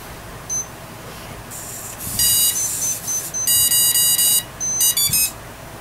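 Home-built electronic speed controller for an FW450 RC helicopter, fitted with Flywing parts, emitting a series of sharp, high electronic beeps and tone bursts after the battery is connected, close and loud over a faint background hiss.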